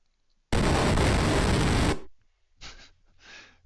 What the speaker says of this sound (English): It's like a explosion.